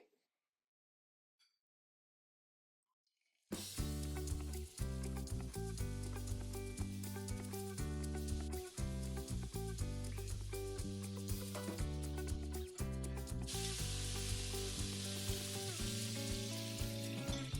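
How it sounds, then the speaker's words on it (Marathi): Onion, garlic and chilli fry in four to five spoons of hot oil. After a few seconds of silence a loud, close, continuous sizzle and crackle starts and runs to the end. "चार ते पाच स्पून तेल घेऊन त्याच्यामध्ये कांदे लसूण मिरची तळून घ्यायची"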